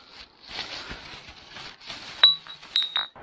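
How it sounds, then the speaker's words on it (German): Empty beer bottles clink together as they are packed into a bag during a hike: a few sharp glassy knocks come in quick succession near the end, over quiet rustling. "werde ich jetzt die ganzen leeren Bierflaschen"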